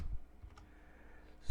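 A few scattered clicks from a computer keyboard while typing in Excel, faint and close against a quiet room, with long pauses between keystrokes and no speech.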